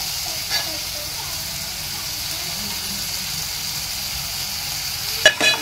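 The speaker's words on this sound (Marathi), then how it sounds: "कांदा तुम्ही घालून घ्या, परतून घ्या." Chopped onion sizzles and sputters softly in a hot pan, the onion being sautéed for pav bhaji as a steady low frying hiss continues, with a couple of brief clinks near the end.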